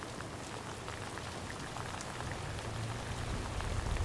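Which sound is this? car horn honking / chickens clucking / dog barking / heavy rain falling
heavy rain falling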